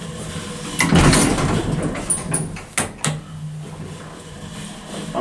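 Hydraulic elevator door in an old town centre building in Placerville sliding shut under relay control, a close mechanical rumble with a couple of sharp knocks near the middle, then a steady low hum.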